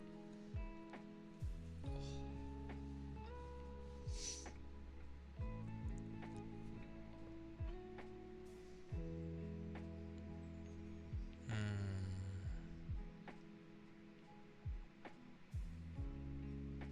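Soft ASMR heartbeat sounds: faint, low, rhythmic thumps recur every second or two over a quiet hum, with no talking.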